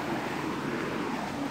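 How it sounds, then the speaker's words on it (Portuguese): A full waterfall roars as a steady broadband rush of falling water, constant and fairly loud, with some wind buffeting the microphone and no speech. "Olha, e uma cachoeira."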